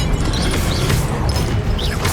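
A loud, dense fiery blast from the Confringo spell in Hogwarts Legacy, a crashing, rumbling burst filling the whole moment with no talk over it.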